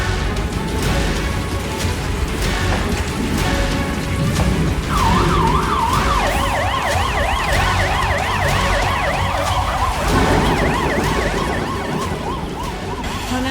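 Several emergency vehicle sirens wail together during a disaster-response drill, fire pumper, rescue truck and ambulance arriving, with overlapping warbling and rising-falling tones over steady road rumble, loud and close with no talk.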